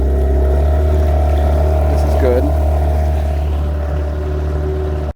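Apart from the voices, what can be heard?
Yamaha 15 outboard motor boat accelerating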